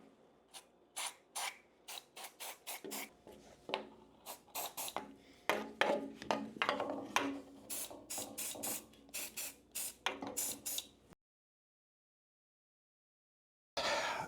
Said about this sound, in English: let's start by spraying some silicone dry lube